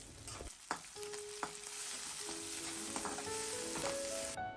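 Onion, green chillies, curry leaves, mustard seeds and dals fry in hot oil, a soft continuous sizzle with a few sharp utensil clinks and stirring scrapes, quiet and close, with no voices.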